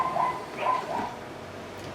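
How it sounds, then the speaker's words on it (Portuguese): A dog gives two short, high yipping barks close together, followed by a stretch of quiet background noise with no voices. "O cachorro tem que latir, tem que incomodar mesmo"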